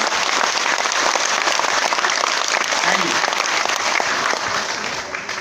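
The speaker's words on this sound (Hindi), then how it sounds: "एक बार सब लोगों के लिए दोनों हाथ ऊपर करके जोरदार वाली ताली बजाएंगे।" A large seminar crowd in Bhilwara, Rajasthan claps loudly and steadily, a dense wash of applause that fades slightly at the end.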